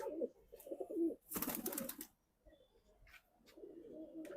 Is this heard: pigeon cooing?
yes